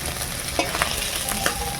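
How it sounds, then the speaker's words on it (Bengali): Pond snails fry in a pan with a steady, close sizzle. Scraping stirring strokes come through at intervals. "গেঁড়িটা ভাজা হয়ে গেছে"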